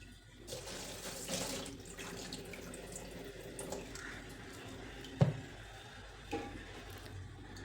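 Soaked grains for idli batter are rinsed in a vessel of water in a home kitchen, a close steady sloshing wash with soft squishing swirls and a couple of brief sharper splashes, no voices.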